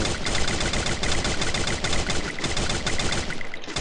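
Rapid automatic gunfire from the mobile battle-royale game Free Fire, a dense, loud burst of shots rattling continuously with almost no gaps, heard alone without talking.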